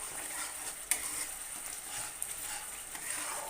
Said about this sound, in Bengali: গ্যাসের ফ্লেমটাকে লোতে রেখেই কিন্তু মশলাটা কষাতে হবে, যতক্ষণ না মশলা থেকে তেল ছেড়ে বেরোচ্ছে।